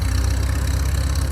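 A piston aircraft engine runs steadily nearby, a loud low throbbing drone with rapid regular firing pulses and no talking.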